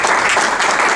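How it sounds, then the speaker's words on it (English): Audience applause at a workforce center event, loud and continuous clapping from a roomful of people, heard briefly and without anyone speaking. "I think we ought to give him a round of applause"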